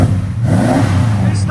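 A 1989 Dodge Ramcharger with a 5.9L V8 and Dynomax super turbo mufflers gives a brief, close, deep rev, a clean low rumble that swells and holds.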